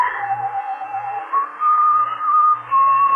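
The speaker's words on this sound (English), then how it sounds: "The slasher whistles that tune." A slasher whistles a wavering, sustained tune in an old-time radio drama, clear and fairly close, with faint low background noise beneath.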